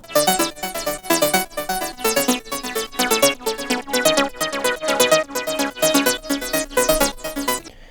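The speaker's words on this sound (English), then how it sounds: "We have this ARP sound," A bright synth arpeggio repeats fast, even notes in a steady looping pattern, loud and alone with no voices.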